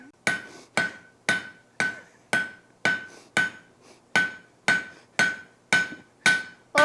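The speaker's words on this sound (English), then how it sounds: "then quietly slip off to the power hammer" Hot steel for a hog catcher is forged in a steady run of about a dozen sharp, ringing hammer blows, evenly spaced a little under a second apart, loud and close with no voices.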